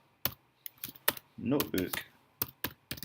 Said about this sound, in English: opening up a terminal window and simply typing Jupyter